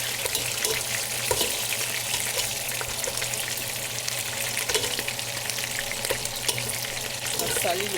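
Chicken pieces browning in oil in a pan on a gas stove, giving a steady, close, hissing sizzle with crackling splatter bursts throughout.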